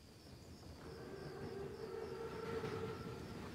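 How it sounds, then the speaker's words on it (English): A German armored train in the Call of Duty WW2 video game rumbles along at a distance, a faint steady roar with a long, wailing horn-like tone rising in the middle, no talking. "Biggest train I've ever seen."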